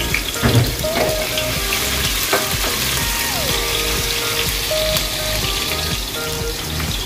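Ginger dropped into hot cooking oil sizzles and crackles steadily and loud up close, a continuous frying hiss with light music in the background.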